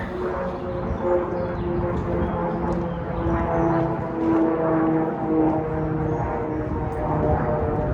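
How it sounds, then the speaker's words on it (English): An airplane passing overhead outdoors: a steady, droning engine rumble with a tonal hum, sustained and fairly loud throughout, with a faint dog bark in the background. "there was a plane"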